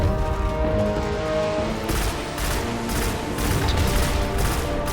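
Gunfire in Destiny comes in rapid repeated bursts while the player shoots at enemies, loud and close, with sharp shots over steady game sound and no talking.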